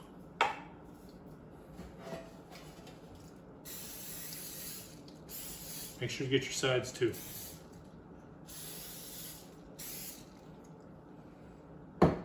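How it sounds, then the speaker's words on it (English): A can of cooking spray hisses in several short bursts into a loaf pan, each spray a brief airy blast separated by pauses, while a person talks quietly between them. "a little bit of cooking spray"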